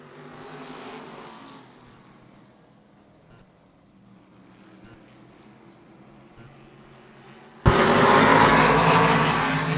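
Race car engines roar down the back straightaway of an oval track, a distant drone building until a loud car blasts past close by near the end, with no talk over it.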